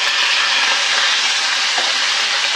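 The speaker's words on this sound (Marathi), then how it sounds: "इकडे आहे बघा पॅनमध्ये करंडा मासा झाकण लावून इथे फ्राय होते" Karanda fish frying in oil in a covered pan, a steady close sizzling hiss that holds evenly throughout with no pauses and no talk.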